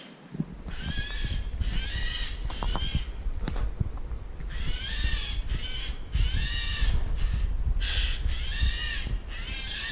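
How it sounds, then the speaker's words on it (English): Repeated harsh bird calls, several close together in bursts, ringing out over a steady outdoor background with occasional clicks and knocks, on a sunny hike in Scotland. "Anybody can identify that bird call and be my guest"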